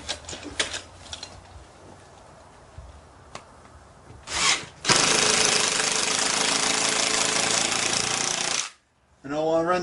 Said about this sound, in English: drill a starter hole using the bit and come down through the top